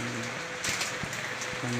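Rain falling steadily during a banana harvest, a constant broadband hiss with a few louder drops and patters spread through, no talk.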